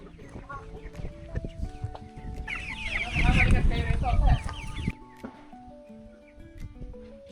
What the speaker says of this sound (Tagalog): Yan si Kuya Eric, nagpapakain ng manoks.